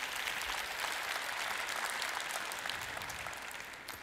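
Seated conference attendees at a media forum give a sustained round of applause for guest contributors, an even, distant patter of many hands that continues throughout and tapers slightly at the close.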